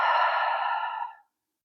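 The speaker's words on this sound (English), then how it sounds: "exhale with the mouth," A single long exhale through the mouth during a yoga hip-opener session, a breathy sigh that fades out after about a second, alone and close.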